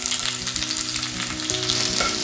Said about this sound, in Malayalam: ചെറിയ ഉള്ളി നല്ലൊരു ഗോൾഡൻ ബ്രൗൺ കളർ ആകുന്നത് വരെ നമുക്ക് മൂപ്പിച്ചെടുക്കണം.